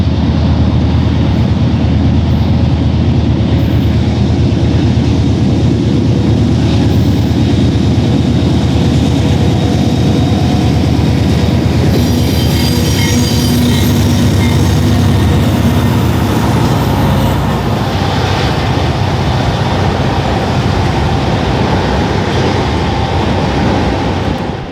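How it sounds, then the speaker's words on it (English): A GEVO freight locomotive and its train roll past trackside in Saginaw, a loud, steady low rumble of engine and rolling cars that holds for the whole stretch, with wheel and rail noise rising in the middle. "a train's already coming"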